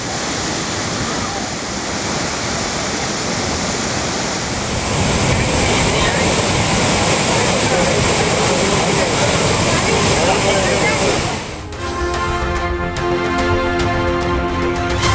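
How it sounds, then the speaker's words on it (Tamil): The flooded Courtallam waterfalls in Tenkasi district roar as a loud, dense, continuous rush of falling water, steady throughout with a brief dip near the end. "தென்காசி மாவட்டம் குற்றால அருவிகளில் குறையாத வெள்ளப்பெருக்கு."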